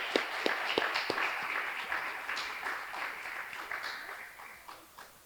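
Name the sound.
audience applause for staff at graduation ceremony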